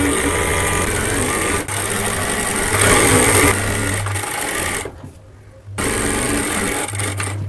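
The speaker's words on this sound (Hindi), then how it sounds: "तो अब हमने नीचे से सिलाई लगा कर लाना है।" A sewing machine stitches a cotton A-line kurti in bursts, a loud buzzing mechanical whir that stops briefly and restarts.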